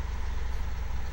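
Underpowered tractor engine in Farming Simulator 2015, a steady low rumbling drone running continuously, close and even in loudness.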